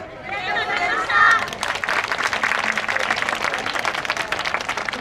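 At the Yosakoi-style Yātose Akita Festival 2019 main stage in Ōmachi, a large outdoor audience claps in sustained, dense applause, with a voice speaking over a loudspeaker briefly at the start.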